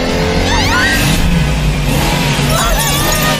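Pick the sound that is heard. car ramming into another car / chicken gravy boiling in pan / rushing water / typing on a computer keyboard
car ramming into another car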